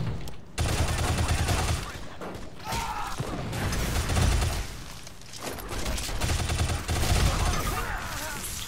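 Sniper rifle fire in the video game Shadow Complex comes as repeated loud shots and booms within dense, continuous game action noise, with mechanical clatter between the blasts.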